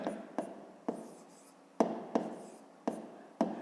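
A pen writes by hand on paper during a fifth-grade maths exercise, giving about eight crisp, close strokes at an uneven pace with no talking.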